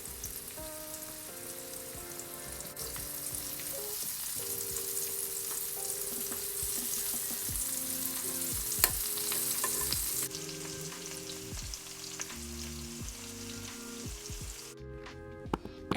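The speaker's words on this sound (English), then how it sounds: "Add in your salmon and you will cook for a total of about 6 minutes" Salmon fries in oil in a pan, a steady close sizzle and crackle running throughout, with soft musical tones playing underneath and no talking.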